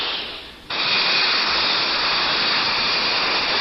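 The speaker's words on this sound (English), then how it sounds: "There are jets that can rise straight up and then hover, like this British Hawker P-1127." A hovering Hawker P-1127 vertical take-off jet roars with a loud, steady, hissing engine blast that jumps up sharply early on and then holds constant.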